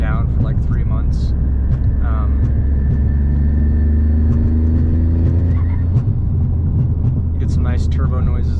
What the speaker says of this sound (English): You get some nice turbo noises there